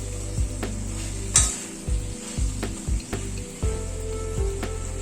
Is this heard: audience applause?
no